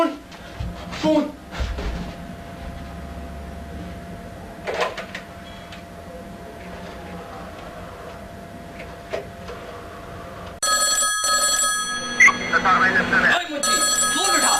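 A telephone rings in a home in Faisalabad, Punjab, Pakistan, its electronic ringing tone starting partway through and repeating loudly near the end, while people talk and move around before and during it.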